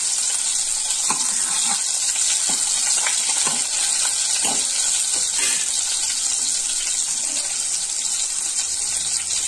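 Garlic sizzling in hot oil in a pan for a tomato pepper rasam tempering, a steady bright frying hiss throughout with small scattered pops and spatters, close and continuous with no talking.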